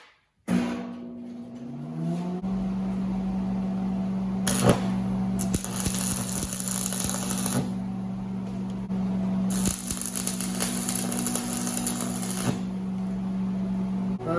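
Homemade weight plates being welded, a steady buzzing arc with a constant hum and crackle running nearly the whole time, fairly loud and close, with brief bursts of harsher sputtering.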